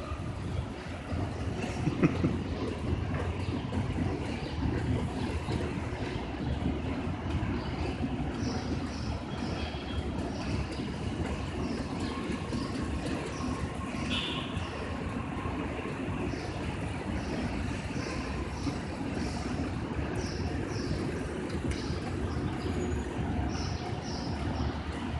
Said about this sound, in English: Wow, this is the subway station here in downtown LA.